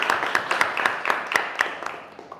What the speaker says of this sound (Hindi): उनके आने के पहले हम उनके लिए ज़ोरदार तालियां बजाएंगे